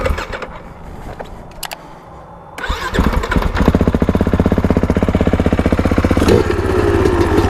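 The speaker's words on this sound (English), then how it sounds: "Let's go ahead and get this KX fired up." A 2021 Kawasaki KX450X dirt bike is kick started on a trail, catching on the first kick after a quiet pause and settling into a loud, close, rapid chugging idle with a brief blip partway through.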